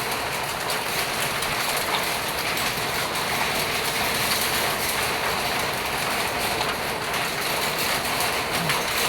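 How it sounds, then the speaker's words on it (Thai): Steady, dense hiss of falling rain, loud and unbroken from start to finish with no voices over it. "เสียงฝน"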